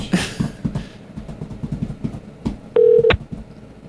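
Phone number being dialed on a telephone: a run of short clicks and taps, then a clear steady touch tone of about a third of a second, followed by another brief beep.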